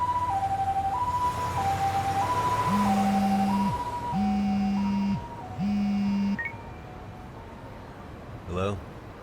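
An ambulance siren in the crime action game Lost Judgment wails in a steady two-tone high-low pattern, loud and near, with electronic beeping tones layered over it and a brief sharp sound at the end.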